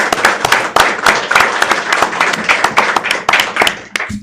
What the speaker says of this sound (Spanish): la expositora Soledad Rodrigo, para quien les pido un fuerte aplauso